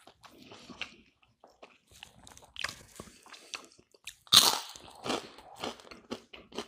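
Someone bites and chews crunchy air fryer fries up close, a series of irregular crisp crunches with one sharp loud bite midway, in an otherwise quiet room.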